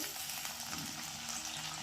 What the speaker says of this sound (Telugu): ఇప్పుడు ఆయిల్ పోసుకుందాం. ఇప్పుడు పోపు గింజలు, ఆవాలు, జీలకర్ర వేసుకుందాం.